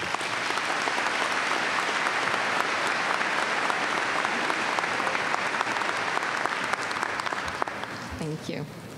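Loud, sustained applause from a commencement audience fills the hall, steady dense clapping throughout with a few cheers near the end as the crowd welcomes the speaker.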